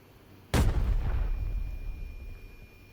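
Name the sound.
grenade explosion in video game Arena Breakout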